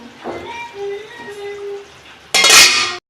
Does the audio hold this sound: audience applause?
no